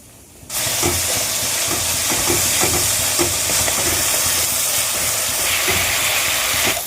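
Spice paste frying in oil in a pan for a katla fish curry, a loud steady sizzle and hiss that starts abruptly and keeps going, with faint stirring scrapes underneath.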